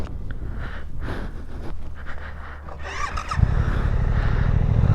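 Suzuki GSX-8S motorcycle engine while riding, a low rumble under wind noise that swells louder partway through as the bike accelerates.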